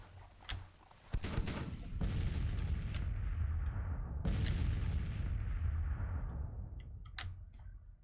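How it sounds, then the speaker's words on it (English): Civil War-era artillery bombardment in Grand Tactician: The Civil War, with several heavy cannon booms rolling out in long decaying echoes, interspersed with smaller sharp reports, some near and some distant. "Now you are bombarding, right?"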